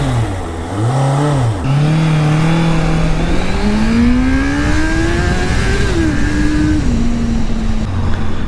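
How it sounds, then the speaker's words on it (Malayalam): A Honda CBR650F motorcycle with an underbelly exhaust revs steadily, its engine note climbing and falling in a loud, continuous drone close by, with no talking over it. "ഇനി ജസ്റ്റ് ഞാൻ ഈ ഒരു ബൈക്കിൻ്റെ സൗണ്ടും കൂടെ കേൾപ്പിക്കാം."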